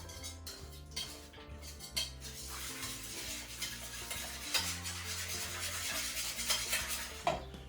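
Soup ingredients being stirred in a 200 ml cup, with a steady close scraping and clinking of a spoon against the cup over a low background hum, with no speech.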